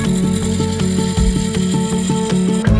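A wood lathe turns and shapes a wooden chandelier piece after hollowing, giving a steady close mechanical drone with a regular rhythmic ticking pulse from the spinning work, loud and continuous with no talk.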